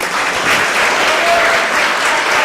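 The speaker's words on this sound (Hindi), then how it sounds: "इनके लिए तालियां मारिए आप।" A gathered audience breaks into dense, steady applause for women praised for social work, a loud continuous wash of many hands clapping throughout, with no talk over it.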